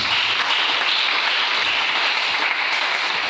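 Church congregation applauding the Lord, a dense, loud, steady wash of clapping from many hands for a few seconds, with no voices standing out.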